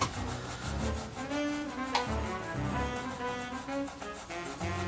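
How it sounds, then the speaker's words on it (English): A paintbrush loaded with black acrylic paint rubs back and forth across a canvas in soft, scratchy strokes that repeat irregularly and sit close and fairly quiet. "Just kind of rubbing it in with that black."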